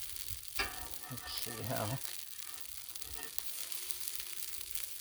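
A cheese sandwich fries on a hot griddle, giving a steady sizzle that runs under a brief spoken phrase and some scraping or stirring near the start.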